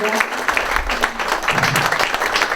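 An audience at a Fundación Magistra conference in Canelones applauding steadily, dense clapping from many hands filling the room loudly throughout, with some voices faintly mixed in.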